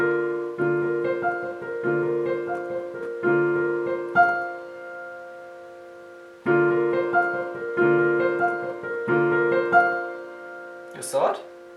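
Piano playing a song with both hands, sustained chords and melody in phrases separated by a brief pause, ending on a short noisy rustle.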